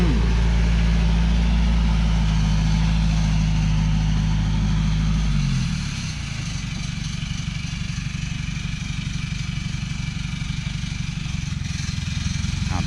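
A loaded dump truck carrying three to four tons, driven by a woman, reverses onto a rock slope. Its diesel engine rumbles loudly and steadily close by, then the tone shifts and settles into a lower, grinding drone.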